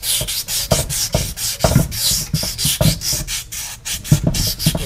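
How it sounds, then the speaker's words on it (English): Rhythmic back-and-forth scraping of 400 grit emery cloth scrubbing surface rust off a lawn mower crankshaft, steady close strokes at an even brisk pace, loud and alone. "I'm going to take some 400 grit emery cloth and something to lube down the crankshaft with"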